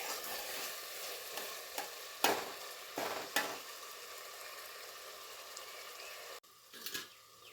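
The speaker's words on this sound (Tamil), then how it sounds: "தக்காளி இன்னும் முழுசாக இருக்கு பாருங்கள், அதெல்லாம் இன்னும் கொஞ்சம் வதங்கணும்." Tomatoes stir-fried in a pan for chicken biryani, a soft continuous sizzle broken by a few scraping stirs of the spoon, heard close and alone with no talk.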